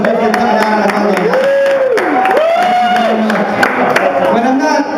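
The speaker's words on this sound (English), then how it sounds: "Give yourselves a big round of applause." Audience at a comedy show clapping and cheering for several seconds, a dense crowd roar with whoops and sliding shouts layered over applause.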